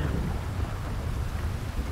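Steady heavy rain with a low rumbling thunderstorm in GTA 5, a dense continuous roar filling the scene with no voices over it.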